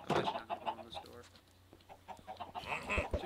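Chickens cluck in short bursts with game-like sound effects, and a voice talks over them.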